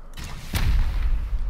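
A rocket explosion during a raid in the video game Rust lands as one sharp boom, followed by a heavy, rumbling roar that keeps going. It is loud and close, and nobody talks over it.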